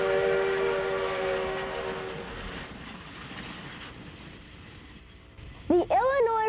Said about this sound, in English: This action makes the big drivers turn and the big train move.